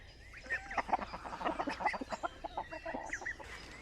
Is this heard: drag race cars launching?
no